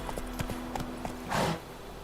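Roach the horse galloping in The Witcher 3, a steady run of hoof clip-clops with a brief louder burst of rustling or a snort near the end, heard alone.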